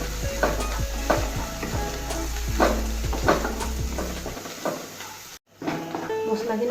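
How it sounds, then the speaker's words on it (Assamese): Spices, including a spoonful of cumin powder, sizzle and fry in a pan for chicken curry, with repeated stirring scrapes over a steady hiss before the frying noise cuts out near the end. "এইখিনি মই এতিয়া ভালদৰে ভাজি ল'ম।"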